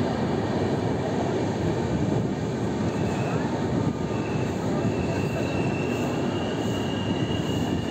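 Passenger train running on rails between Kharagpur Junction and Jhargram, heard from on board as a steady, loud rolling rumble with continuous clatter and no breaks throughout.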